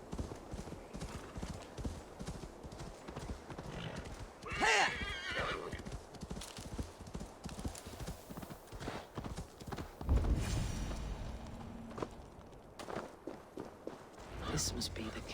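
A horse gallops and neighs in the video game Assassin's Creed Valhalla, steady clip-clop hoofbeats throughout with a loud whinny near the middle and another later, while someone speaks over it.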